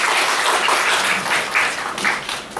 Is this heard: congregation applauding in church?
yes